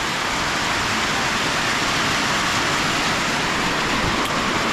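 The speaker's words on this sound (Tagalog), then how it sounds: "O, ayan o. Ulan." Rain falls steadily as an even, unbroken hiss that fills the whole stretch at a fairly loud level, with no voices.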